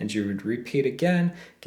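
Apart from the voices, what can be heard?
No everyday noises stand out.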